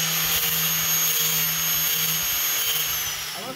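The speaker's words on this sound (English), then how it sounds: "using an angle grinder on a block" An angle grinder whines steadily against an engine block in a shop, a loud, high, continuous tone that holds for several seconds before easing off.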